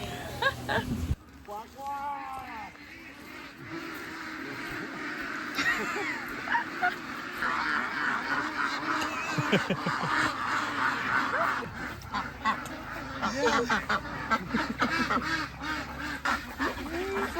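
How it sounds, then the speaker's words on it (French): A flock of ducks quacking and honking continuously, clustered close together, with a person talking over them at times. "On va être le chef d'un troupeau de canards."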